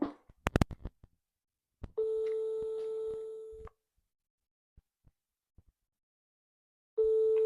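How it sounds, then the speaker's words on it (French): Outgoing phone call ringback tone: two long steady electronic rings separated by a pause, clean and moderately loud after a few brief clicks at the start. "Ça sonne."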